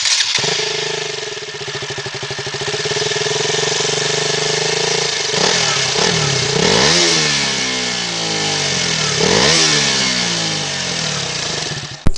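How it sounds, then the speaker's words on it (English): A KTM Duke 200 motorcycle idles loudly close by, then its exhaust barks through several sharp revs that climb and fall away, ending with a final throttle blip. "the exhaust note of the bike, which I love so much, and let's hear it"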